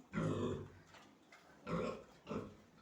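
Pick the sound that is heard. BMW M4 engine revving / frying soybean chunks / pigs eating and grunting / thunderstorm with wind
pigs eating and grunting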